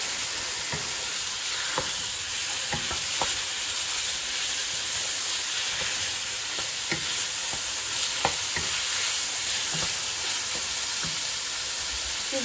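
Beef stirred in a pot as it browns, for Persian khoresh qaimeh: a steady sizzling hiss of frying throughout, broken by soft scraping strokes of the spoon at an irregular pace, with no talking.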